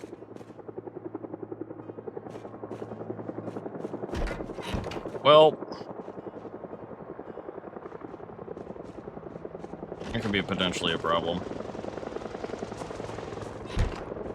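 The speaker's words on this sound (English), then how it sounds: "Oh god, the helicopter event." A helicopter event in the Project Zomboid video game, with a steady rotor drone running underneath through the whole stretch while someone talks over it.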